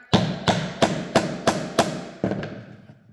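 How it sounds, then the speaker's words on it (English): Light taps drive a wooden dowel into a hole in MDF board, about seven sharp, evenly spaced knocks close by, each with a short ringing decay, the last ones softer. "I'm now going to put, there we go, the dowel over the hole in the MDF that I want it to go into. Gently tap."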